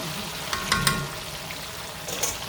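Plantains fry in plenty of oil in a large cast iron pan, a close, steady sizzle with crackling bursts and light pops throughout.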